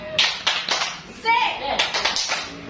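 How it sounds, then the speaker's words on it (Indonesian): Children clap a quick rhythmic spirit clap in a classroom, several sharp claps in a patterned beat, with young voices chanting between them. "Kita tes lagi, tepuk semangat."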